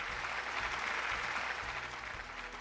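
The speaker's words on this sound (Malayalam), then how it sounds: "നല്ലൊരു കയ്യടി." Studio audience applause on a Malayalam TV game show, a steady, dense clapping that fills the room for a few seconds and stays evenly loud with a low musical hum underneath.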